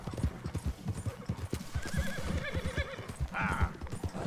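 Horse hooves clip-clop in a rapid galloping rhythm in the video game Red Dead Redemption II, close and steady, with a neigh breaking through near the end.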